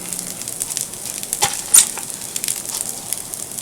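Rice sizzles and fries in a pan with a soft, steady crackle, broken by a couple of brief scraping tosses near the middle; no one speaks.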